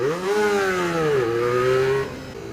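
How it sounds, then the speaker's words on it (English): A Honda RVF V4 motorcycle engine with a Hawk aftermarket exhaust revs up and down with a deep, throaty exhaust note, rising and falling twice before settling to a lower idle. "the first thing that I love about this bike is obviously the sound, and especially with my Hawk exhaust"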